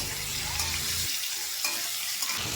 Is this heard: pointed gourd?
yes